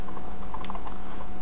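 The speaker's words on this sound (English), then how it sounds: "I'm going to go ahead and hit enter again and type in an import again" Keys clatter on a computer keyboard while someone types code, a brief run of quick, light, irregular clicks close by with no voices.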